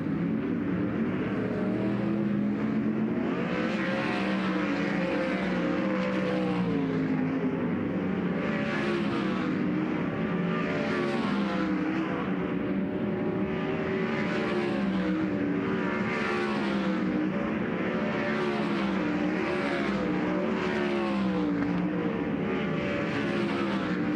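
Race cars roar through dirt track hot laps at Central Arizona Speedway during a High Limit Racing event, their engines loud and continuous with rising and falling pitch as the cars circle the track, and no voices.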